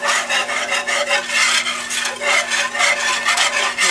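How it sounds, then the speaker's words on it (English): A metal whisk scrapes and rasps rhythmically against a pan while stirring homemade white gravy, loud, close and continuous, with no speech. "I have used a metal whisk"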